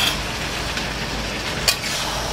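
Mutton coated in masala frying in a kadhai, a close, continuous sizzle with soft scraping stirs and one sharper utensil knock partway through, no talk.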